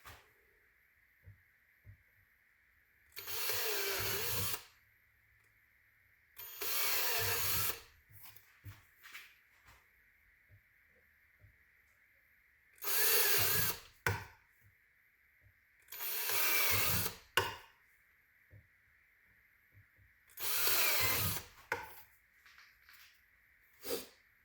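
Power drill boring holes into the plastic of an IBC tote for a DIY aquaponic build, with six loud whirring bursts of a few seconds each separated by quiet pauses and faint handling noise, close up and with no talking.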